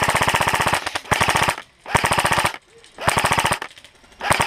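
Automatic gunfire rattles in a shooting video game, with rapid bursts of close, loud shots broken by short pauses, three long volleys and a final burst, with no talk over them.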